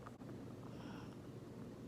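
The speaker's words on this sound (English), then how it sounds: "It is really windy." Steady roaring wind from a severe thunderstorm buffeting the microphone, a constant broadband rush with low rumble and no pauses.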